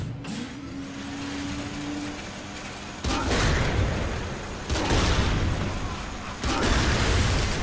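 A tank wrecks its surroundings in Saints Row The Third, with a low engine rumble giving way to three loud crashing impacts, each followed by a roaring, grinding swell of destruction.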